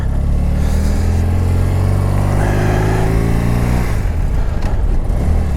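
A 1986 BMW R80 motorcycle being ridden, its engine droning steadily and loud throughout, with a shift in pitch about two thirds of the way through as the revs drop.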